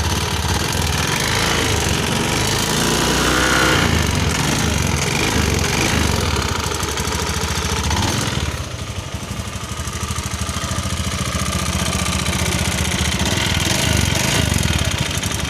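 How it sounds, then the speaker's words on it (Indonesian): A Honda Beat ESP scooter engine runs loudly and roughly close by, a harsh rattling drone that dips briefly before resuming steadily. "Teman-teman bisa dengar ya, suara mesinnya seperti ini."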